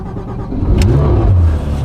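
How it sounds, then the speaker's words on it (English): A Porsche GT3 flat-six engine cranks and catches, then revs up into a loud, steady near roar that holds for over a second. "That familiar flat six Porsche sound."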